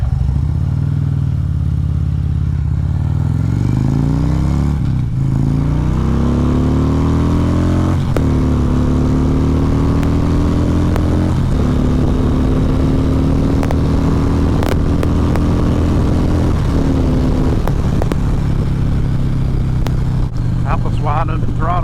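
A 2014 Harley-Davidson Ultra Classic motorcycle accelerating at wide open throttle through the gears, loud rumbling engine pitch rising and dropping at each shift, with heavy wind noise and someone talking over it.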